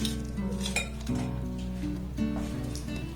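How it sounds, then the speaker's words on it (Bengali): A knife cutting away the red flesh of a watermelon, giving light clinks and scraping touches against a plate or board, heard close over quiet background music. "তরমুজের এই যে লাল পোর্শনটাকে এইভাবে কিন্তু ছুরি দিয়ে কেটে নিতে পারেন"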